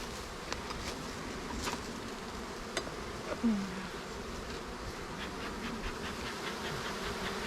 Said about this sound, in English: That is a good amount of bees, so we're good.